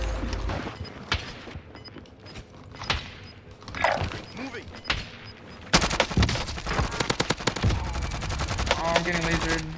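Gunfire crackles through a Warzone Rebirth match, with scattered single shots giving way to dense, loud automatic bursts in the second half, while players talk over the shooting.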